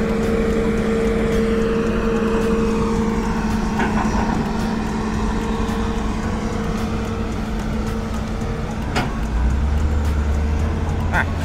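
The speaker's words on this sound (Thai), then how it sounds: "คันนั้นแบบนิ่มๆครับออกตัวไปไม่มีเสียงสัญญาณอะไรเลย" A truck at a quarry pit pulls away smoothly beside a working HITACHI ZX200 excavator, its steady engine rumble and hum growing deeper near the end, while someone talks throughout.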